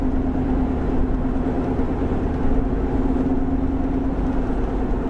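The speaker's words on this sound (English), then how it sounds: "People are driving with their lights on." Steady traffic on a road at dusk: a continuous low engine rumble and tire hum from passing cars, constant and fairly loud with no talking.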